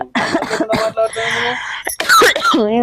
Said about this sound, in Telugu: చూడు నాకు ఎట్లా దగ్గు వస్తుందో